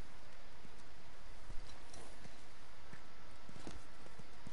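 Horse hooves clip-clopping on the ground in the video game The Last of Us, a soft, steady series of scattered thuds under a constant broad outdoor ambience, moderately close, with no talking over it.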